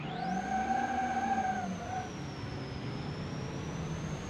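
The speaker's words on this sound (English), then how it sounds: "That turbo is just so loud," A turbo diesel pickup truck in the BeamNG Drive video game revs its engine, with a loud, high turbo whine rising and holding steady over a deep engine drone.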